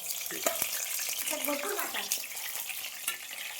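Soybean chilli sizzles and fries in a large kadhai over low heat while being stirred, a steady close crackle with scraping strokes and occasional clinks.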